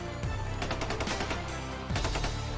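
Gunfire from many enemies crackles in rapid, dense bursts, with two sharp, heavy volleys near the start and again around the two-second mark and scattered shots in between.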